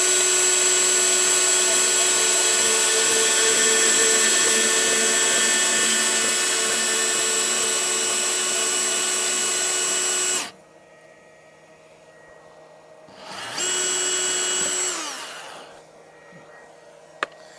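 A power tool cuts through buried plastic pipe in a dug-out septic line, a steady loud high-pitched whine for about ten seconds, then a second short burst that spins down, with no talk.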